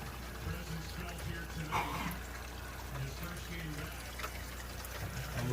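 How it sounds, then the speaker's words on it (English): Water flows through a DIY GFO manifold into a 110-gallon Waterbox reef tank, a faint steady trickle and pour with a low background rumble and some muffled talking. "But it is water going to the tank."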